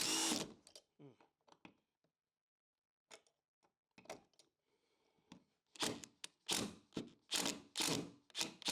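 A power drill drives screws into a floating shelf frame in short, intermittent whirring bursts, close by, separated by pauses and a few knocks, growing louder and more rapid near the end.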